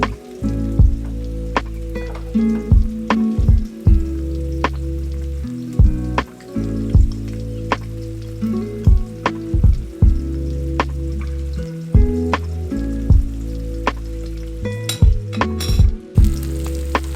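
Eggs frying in chili oil in a pan, a loud close sizzle broken by frequent sharp pops and crackles throughout.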